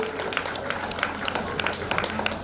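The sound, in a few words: audience applause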